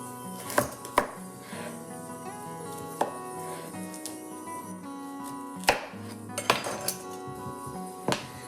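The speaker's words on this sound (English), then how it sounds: "I'm going to slice them lengthwise, so we get these 1/4-inch slices" A knife slices parsnips lengthwise into quarter-inch pieces on a cutting board, giving sharp, irregular knocks against the board with clinks in between, close and distinct over quiet background music.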